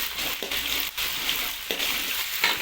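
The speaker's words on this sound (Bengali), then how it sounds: "এখন আমাদের আদা রসুনের পেস্ট দেওয়া হচ্ছে।" Ginger garlic paste frying in a pan with browned onions for a chicken curry, a steady loud sizzle with brief stirring scrapes breaking through the hiss.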